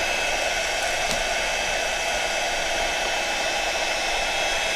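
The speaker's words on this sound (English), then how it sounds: "So it's always handy to have your heat gun around." A heat gun drying paint pigment blows a constant, loud, even hiss of hot air at close range for the whole stretch, with no talk over it.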